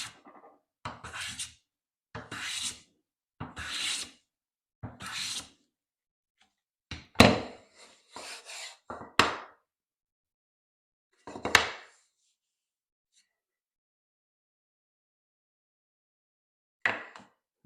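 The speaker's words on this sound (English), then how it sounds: "Now I can take my regular jack and come on here." A cambered jack plane taking high spots off a wooden board, a series of short rasping shaving strokes in a steady rhythm, then a few sharper scrapes spaced farther apart, close and clear with quiet gaps.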